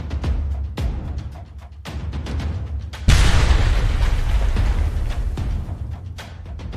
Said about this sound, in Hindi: यूक्रेनी तोपखाना गोलाबारी शुरू कर देता है।